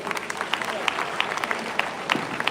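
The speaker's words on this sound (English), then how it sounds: "Give a big applause to us, sir." An audience at a speech event claps in a brief, moderately loud round, with distinct individual claps standing out over a softer crowd murmur.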